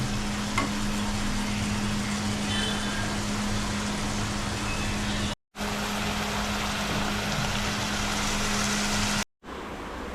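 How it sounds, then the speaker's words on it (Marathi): Onion and tomato frying in hot oil in a kadhai, a loud, dense, unbroken sizzle with stirring, steady close-up hiss over a low hum, cut by two brief dropouts. "कांदा आणि टॉमॅटो आता मिक्स झालेला आहे बघा आता ढवळून घेतो आम्ही कढईमध्ये"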